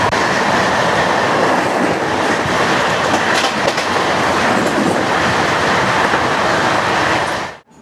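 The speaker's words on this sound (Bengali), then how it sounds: "শিয়ালদা থেকে ছেড়ে আসছে কাঞ্চনজঙ্ঘা এক্সপ্রেস ট্রেন ঢুকছে" The Kanchanjunga Express from Sealdah rolls into a station: a loud, close, continuous rumble with rhythmic clickety-clack of wheels over rail joints and faint squeals, fading abruptly at the end.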